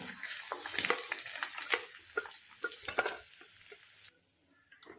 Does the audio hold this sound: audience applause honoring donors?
no